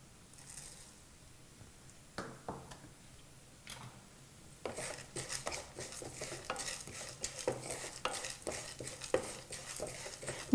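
Urad dal, cumin and chana dal frying in oil: soft sizzling under repeated scraping stirs, sparse at first, then busier and more continuous, heard up close.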